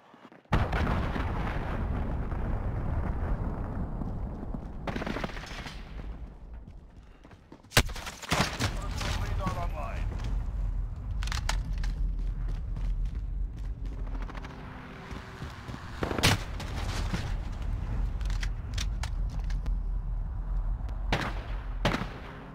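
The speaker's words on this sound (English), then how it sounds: "Enemy cruise missile incoming!" Cruise missile strikes in a Call of Duty match set off a loud, continuous roar of explosions and gunfire, punctuated by several sharp, heavy blasts over about twenty seconds.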